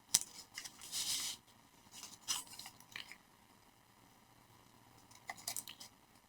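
Scissors trim paper close around a flower and its leaves for a scrapbook tag layout, with several bursts of crisp snipping early on and again near the end, separated by quiet pauses.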